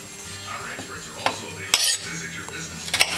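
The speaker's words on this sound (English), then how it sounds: "Do a couple chops down straight, and then I do a couple chops sideways." A knife strikes a cutting board a few times in quick separate chops through an onion, close and crisp over quiet kitchen background noise.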